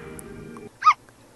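A single short, close dog yelp or whimper from a video game, alone after a low sustained tone cuts out, with faint ambient hum underneath.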